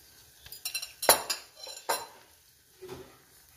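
A spoon scrapes and taps against a pan while omelette mixture for a Spanish omelette is spread across it, a quick run of close metallic clinks and scrapes that fades into quieter stirring.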